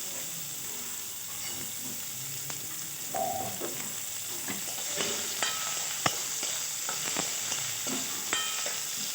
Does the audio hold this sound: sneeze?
no